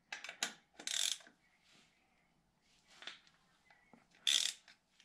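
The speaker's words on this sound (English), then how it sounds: "I'm going to try the 3/8 wrench first" A 3/8 wrench ratchets on the tight rear wheel bolts of a BMW R1250GSA motorcycle, giving short bursts of clicking pawl teeth separated by pauses, close and crisp in a quiet space.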